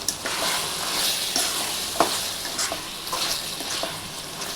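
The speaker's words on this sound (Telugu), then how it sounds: "ఈ కొత్తిమీర మసాలాలు వేగాలి" Chicken and coriander masala fry in a pan with a close, continuous sizzle, broken by the scrape and clack of a stirring spoon every second or so. Nobody speaks.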